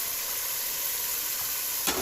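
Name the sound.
minced meat and peas frying in oil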